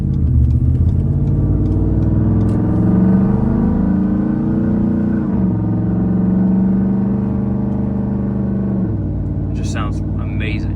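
A 2016 Ford F-150 with a 5.0 V8 and cut exhaust rumbles loudly and steadily at a raised idle with slight rises in revs, close to the mic, then settles lower near the end.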